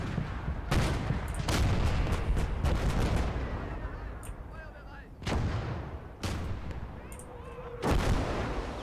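Artillery and gunfire in the battlefield game Call To Arms: Gates Of Hell, a sequence of heavy booming blasts and cracking shots spread across the clip, loud and close with rumbling decay between impacts.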